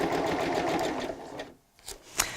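A Butterick Signature EB6100 sewing machine stitches fabric with a fast, steady mechanical whir for about a second and a half, then pauses briefly before a few clicks and a short burst of running, close and clear.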